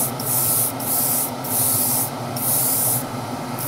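Iwata Revolution 0.5 airbrush spraying paint onto a Tamiya Castrol Celica WRC model body, a steady hissing spray in three bursts of roughly a second each, separated by short pauses, close and fairly loud with no talking.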